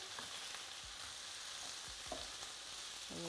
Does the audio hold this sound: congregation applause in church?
no